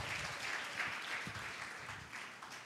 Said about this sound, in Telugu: చప్పట్లు కొట్టండి గట్టిగా ఒకసారి.